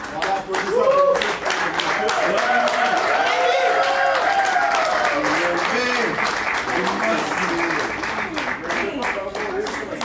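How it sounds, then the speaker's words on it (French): A crowd of guests gives sustained, dense applause at a civil wedding ceremony, rising quickly and continuing steadily, with voices talking and calling out over the clapping. "Levez sous vos applaudissements s'il vous plaît."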